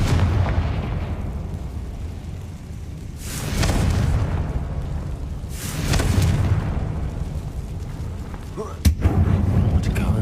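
Confringo spell blasts in the video game Hogwarts Legacy inside a goblin mine, two deep booming explosions a few seconds apart over a continuous low rumbling game soundscape, followed by a sharp pop.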